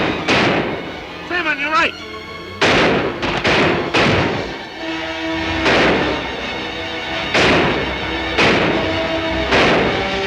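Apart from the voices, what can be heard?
gunshots in a western film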